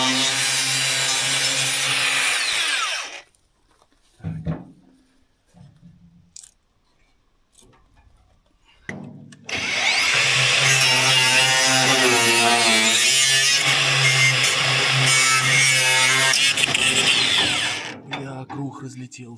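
Angle grinder with a cutting disc slicing through the metal hood of an old, long-abandoned KrAZ 255 truck, a loud high whining screech in two long bursts separated by a quieter pause with shuffling noises.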